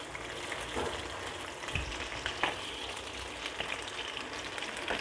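Chicken pakoda pieces fry in hot oil with a dense, continuous crackling sizzle, close and even, punctuated by occasional sharper pops and bubbling.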